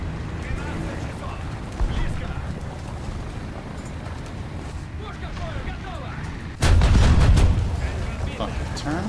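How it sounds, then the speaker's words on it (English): Artillery fire in the tank combat game War Thunder: a sudden loud heavy blast near the end, booming and rumbling after muffled gameplay noise and faint voice chatter earlier. "I got hit by fucking artillery"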